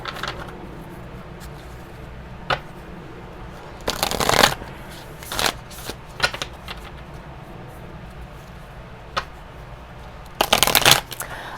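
Hocus Pocus oracle cards being shuffled in several short bursts of crisp riffling, spaced apart by quiet pauses and a soft background hum, with brief clicks between the main shuffles.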